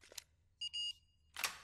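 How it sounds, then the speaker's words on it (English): Electronic beeps in the Resident Evil video game, a quick cluster of two or three short, clean tones followed by a slightly longer one, faint and alone, with soft clicks before and after. "Beep beep."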